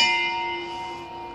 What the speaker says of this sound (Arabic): هاي الجرس تاع السفينة